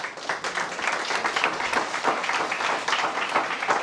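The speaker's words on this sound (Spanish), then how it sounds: "Brinden un fuerte aplauso al Señor" A church congregation claps together in steady, dense applause, fairly loud and continuous throughout.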